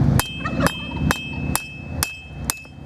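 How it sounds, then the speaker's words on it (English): Six steady hammer strikes land on hot knife steel during forging at a measured rhythm, bright metallic clanks with a light ringing tone between them. "smooth out a little more hammer bumps."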